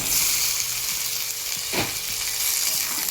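Mutton pieces frying in a pan on onions already browned red, a steady, close sizzle with a brief stirring scrape partway through and no voices.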